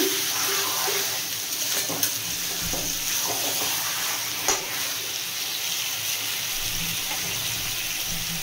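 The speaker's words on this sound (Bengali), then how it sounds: "মাটনটা আমি বেশ কিছুক্ষণ কষিয়ে নিয়েছি।" Mutton being sautéed in a pan on a gas stove for Mutton Dakbungalow, a steady close sizzle with a few scraping stirs and clinks, no talk.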